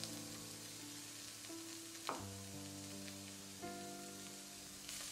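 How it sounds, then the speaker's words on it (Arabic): Onion and garlic fry in olive oil in a pan, giving a steady, quiet sizzle with a few soft stirring clinks and brief knocks. "هحط البصل مع زيت الزيتون لحد ما يدبل."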